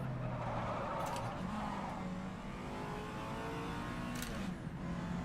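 Race car engine in the rFactor 2 sim, a 1967 Targa Florio historic racer, droning loudly and continuously with steady revving throughout, close and dominant, with no voices over it.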